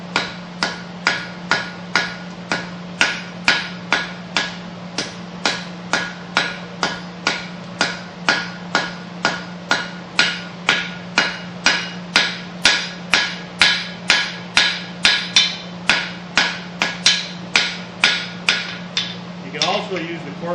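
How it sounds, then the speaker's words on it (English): Steady hammer blows ring out on a metal knife blade being forged, dozens of sharp strikes in an even, quick rhythm, close and loud over a constant low hum. "also use the corner of your hammer and hammer it like this."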